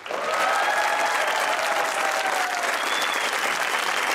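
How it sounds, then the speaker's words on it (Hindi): Studio audience applause from a talk-show crowd, a dense, steady wash of clapping that holds at full strength for about four seconds without talk. "तो बजाइए तालियां"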